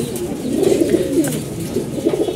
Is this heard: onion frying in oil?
no